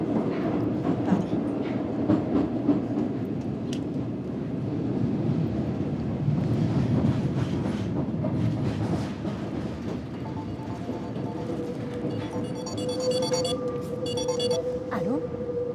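Inside a moving metro train, a steady loud rumble of wheels and carriage noise with rhythmic rail clatter runs throughout, with a faint high tone near the end.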